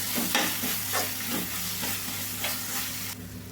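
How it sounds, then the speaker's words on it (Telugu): Tempering spices with turmeric and salt crackle and sizzle in a pan for mango pulihora, a dense continuous fry with a few stirring strokes, close and alone, until the sizzle suddenly drops near the end. "చూడండి మొత్తం తాలింపు అయితే ఇట్లా వేగింది కదండి"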